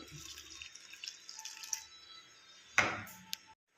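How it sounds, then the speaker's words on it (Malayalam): Water poured into soya chunk bajji batter in a bowl, quiet close trickling and dripping with a few light clinks and one brief louder splash near the end. "ഇനി ഇതിലേക്ക് ആവശ്യത്തിന് വെള്ളം ഒഴിച്ച് കുഴച്ചെടുക്കാം."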